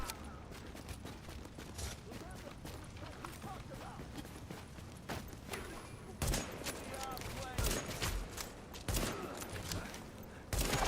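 Gunfire in a survival video game, with rapid clattering shots and bursts over dense game noise, mid-loud and continuing throughout, with a voice talking in places.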